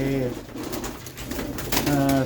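Pigeons cooing close by in a training box in soft, low repeated calls, with muffled shuffling and faint background noise between the coos.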